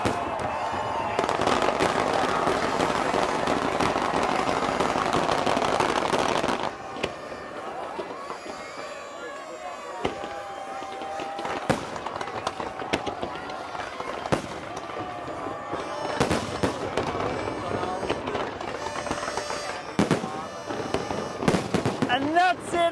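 Fireworks burst over Palm Island in Dubai during a huge New Year's display, a dense roar of explosions followed by scattered sharp pops and crackles, heard at a distance beneath crowd noise.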